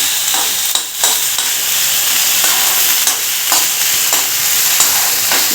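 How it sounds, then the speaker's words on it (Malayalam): Mustard seeds, chili and curry leaves sizzle in hot oil while a spoon stirs them through the pan, a loud continuous crackle broken by periodic scraping strokes. "കടുകും പിന്നെ മുളകും കരിയാപ്പിലയും കൂടിയിട്ടൊന്ന് നമുക്ക് മിക്സാക്കി കൊടുക്കണം"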